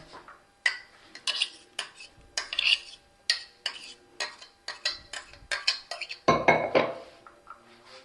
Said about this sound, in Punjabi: ਆਲੂ ਤੇ ਟਮਾਟਰ ਇਹਨੂੰ ਆਪਾਂ ਛਾਨਣੀ ਦੇ ਵਿੱਚ ਛਾਣ ਲੈਣਾ